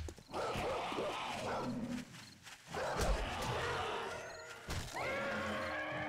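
Dogs in the game 7 Days to Die make loud, dense barking and yelping sounds that fill the whole stretch, with only a few brief dips.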